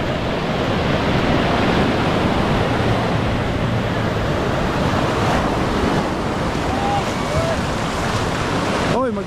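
Rough sea waves during a typhoon surge and crash in a continuous loud roar mixed with wind noise, with a faint voice briefly audible near the end.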